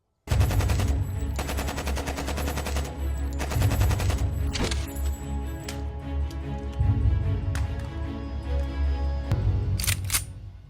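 Gunfire in a shooting range booth, heard as bursts of rapid repeated shots with short pauses between them and a few sharp single cracks near the end, loud and close with no talk.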